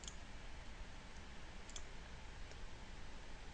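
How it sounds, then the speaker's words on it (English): Computer mouse clicks while working in an XNA phone project, a few sharp, quiet clicks spaced apart over a faint steady background hiss. "You can right click and add item."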